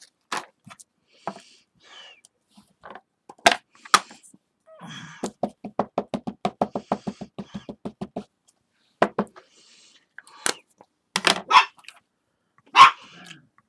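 A dog barks in scattered single yips, then a quick rhythmic run of a dozen or so sharp barks, followed by a few louder isolated barks with pauses between them.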